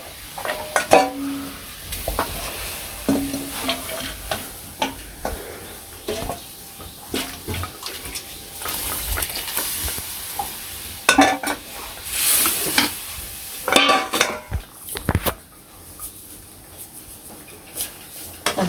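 Whole spices with cumin tempering in hot oil in a pot for jackfruit-seed dal, sizzling throughout with repeated sharp scrapes and clinks of a stirring spoon against the pot.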